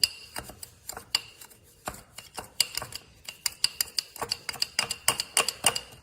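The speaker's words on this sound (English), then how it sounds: "then you're gonna stir that up as best you can" Spoon stirring a drink of coffee, sugar and tequila in a glass, a rapid run of bright clinks and taps against the sides, close and clear, growing busier and quicker toward the end with no talking.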